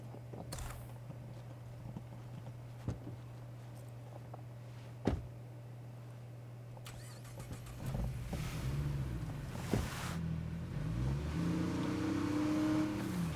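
A car engine in the State of Decay 2 video game hums steadily at a low, even drone, with a few thumps, before revving up and rising in pitch toward the end.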